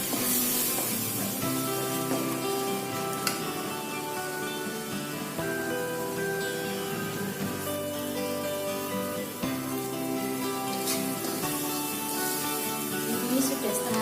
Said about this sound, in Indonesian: Bumbu ditumis sampai setengah masak